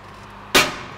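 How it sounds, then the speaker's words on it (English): A lid set down on an ovenproof dish holding garlic in olive oil, a single close, sharp clack with a brief fading ring. "just cover with the lid"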